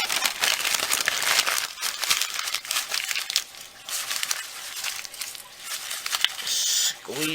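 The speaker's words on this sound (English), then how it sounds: "I've just kind of traced out the shape a little bit and I'm going to crumple it." A traced paper cut-out shape is crumpled by hand for mixed-media craft work, giving repeated dense crinkling and crushing bursts close by, with brief pauses between handfuls.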